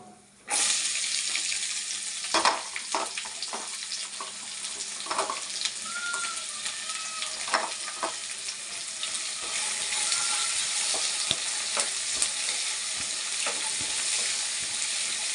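Onions fry in a pan for chicken masala, giving a loud, continuous sizzle broken by occasional clicks and scrapes, with no voice over it.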